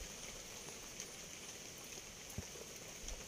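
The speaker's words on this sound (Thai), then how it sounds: "ช่วงแบบมีฝนด้วยนะครับ" Steady rain falling in a rainforest during a cold-season storm, a dense even patter with occasional heavier drops, fairly faint and continuous with no voices.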